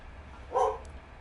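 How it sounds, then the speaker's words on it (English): A single sharp dog bark rings out indoors, brief and fairly close, over a quiet low background hum. "stop barking"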